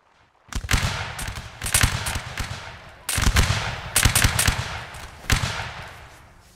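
Ragged musket volleys fire from a line of soldiers in a Napoleonic Wars battle game: dense, crackling bursts of many overlapping shots arrive in several waves with brief gaps between them, loud and close.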